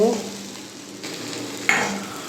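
Chopped onions fry in a pan with a steady broadband sizzle while a utensil stirs them. A louder scrape of the spoon cuts in near the end.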